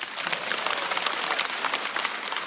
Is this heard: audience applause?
yes